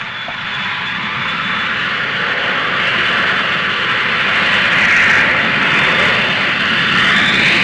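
Engines of a Boeing airliner in flight on the way to Tunis-Carthage, a steady, loud cabin roar with a high whine that drones on continuously without a break.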